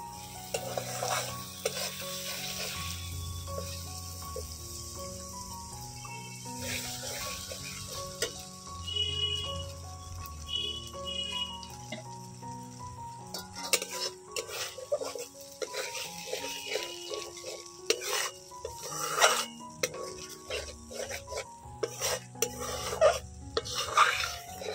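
Spices fry in oil with cashew paste in a pan for a bitter gourd and potato dish, a soft steady sizzle broken by repeated scraping and tapping stirs, quiet and close, with background music, intermittent and non-verbal.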